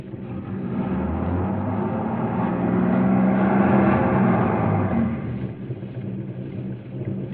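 A car engine stuck in a ditch grinds and rumbles in a long continuous surge, swelling louder midway and then easing, with no voices over it.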